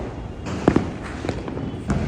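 Diwali fireworks over Surat, with a couple of sharp close bursts followed by scattered softer pops and crackles against a continuous background rumble of distant celebration.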